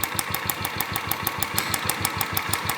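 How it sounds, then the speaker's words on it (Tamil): Royal Enfield Classic BS4 motorcycle idling, its engine chugging steadily while a fast, regular metallic tick from the purge valve repeats over the running engine, close and clear, with no talking. "வண்டி டிக்கி டிக்கி டிக்கி நாய்ஸ் வருதுன்ட்டு."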